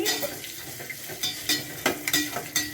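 Cashews fry in hot oil in a pan for cashew rice, a soft steady sizzle broken by intermittent stirring scrapes and light clinks, close and fairly quiet with no talking.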